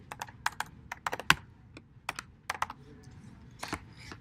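Keys clack on a computer keyboard as code is typed, a close run of quick irregular taps in short bursts with small pauses, alone and without talk.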